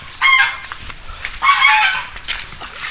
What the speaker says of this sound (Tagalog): Yan o, akong alagang pato.